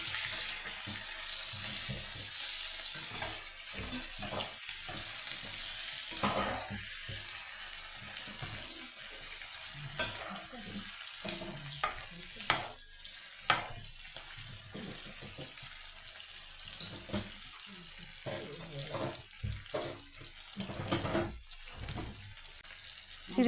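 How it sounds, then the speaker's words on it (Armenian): Potatoes fry in an open pan with fresh pepper and onion, a soft broadband sizzle running throughout with scattered scrapes and clinks as the mixture is stirred, moderately quiet and with no voices. "մեկ անգամ խառնել եմ պղպեղը, սոխը, կարտոֆիլ իրար հետ, բերանը բաց եմ թողել, որպեսզի լավ կարմրի"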